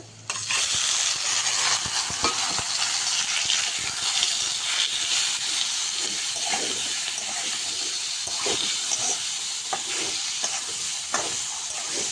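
Spice-marinated fish frying in a pan: a loud, steady hiss and sizzle of hot oil fills the whole stretch, with occasional soft taps and stirring knocks close by.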